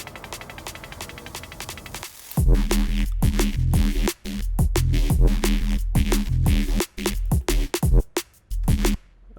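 A drum and bass loop built around a synthesized bass patch from the Vital synthesizer, opening with a quiet, buzzy pad-like intro before loud, choppy bass stabs and beats kick in with rhythmic dropouts.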